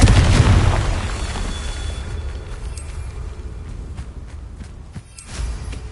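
A Confringo blasting spell bursts in Hogwarts Legacy with a single loud, close boom at the start, trailing off into a fading rumble with a few faint clicks and a small thud near the end.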